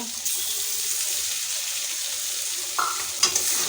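Prawns coated in turmeric and salt hit a hot pan and fry with a steady, close broadband sizzle, joined near the end by a few brief clinks and stirring knocks.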